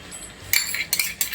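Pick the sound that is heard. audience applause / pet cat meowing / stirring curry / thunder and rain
stirring curry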